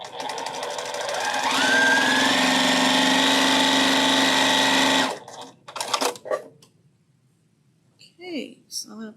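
A sewing machine pieces a quilt block in one loud, steady run of stitching lasting several seconds, then stops, leaving short handling noises and a voice speaking near the end.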